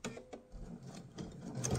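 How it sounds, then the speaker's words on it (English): A sewing machine stitches the side seam of a mesh tote, a faint, low mechanical whirring and ticking that runs continuously through the short stretch. "I'm going to sew a little bit, then I'll go in reverse,"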